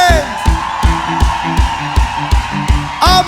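Live unplugged concert audience cheering and applauding for the band, with whoops and yells over steady clapping and a pulsing kick-drum beat, loud and close throughout.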